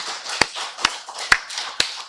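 A congregation at a Korean Full Gospel church Sunday worship service claps together in unison, giving four sharp, evenly spaced claps about half a second apart, moderately loud, with no talk over them.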